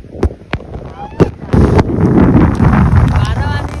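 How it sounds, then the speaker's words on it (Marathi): Strong wind gusts over a rocky mountain trail on the Kalavantin Durg trek, loud broadband buffeting after a few sharp knocks and swelling steadily toward the end. "वारा पण खूप आहे मित्रांनो इकडे."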